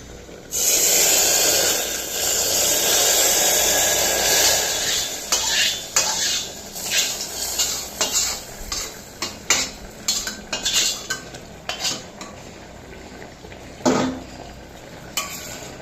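Panch phoron tempering stirred into a pan of vegetables, with a metal spoon clinking and scraping against the cookware in quick, irregular strokes over a soft background hiss.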